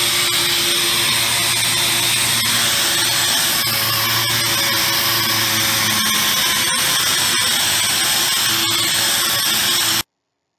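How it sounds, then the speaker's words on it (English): A power sander works over a wooden school woodworking project, giving a steady, loud whirring drone with shifting pitch as it presses and moves across the surface, running continuously for about ten seconds before cutting off. "And this is a video of me sanding."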